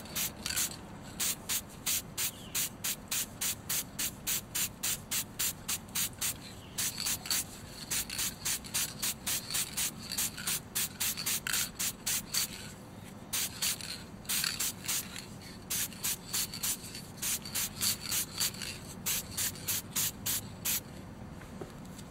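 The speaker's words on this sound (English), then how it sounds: "So now we'll go ahead and paint the nozzle." Short bursts from a spray paint can hiss in a fast, regular rhythm while the nozzle of a Saturn V rocket model is painted, each puff close and crisp, repeated throughout with brief gaps.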